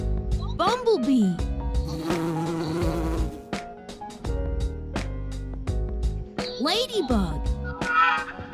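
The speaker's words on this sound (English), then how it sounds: "Bumblebee." A bumblebee buzzes amid a busy bed of cartoonish music, with sweeping tones and short plucked notes running throughout.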